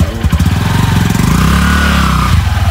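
A motorcycle engine close by putters unevenly, then revs up in a rising drone and pulls away, staying loud throughout with no talking over it.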